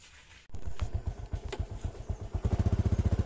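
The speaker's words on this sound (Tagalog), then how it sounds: "labas muna natin yung ating motor" A motorcycle engine starts and idles with a rhythmic, chugging pulse that grows steadier and louder toward the end, close by.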